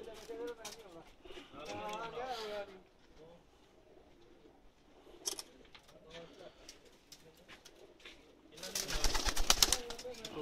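Pakistani pigeons coo softly amid outdoor chatter, with a burst of fluttering wings near the end.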